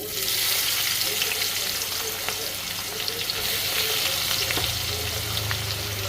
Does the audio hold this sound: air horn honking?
no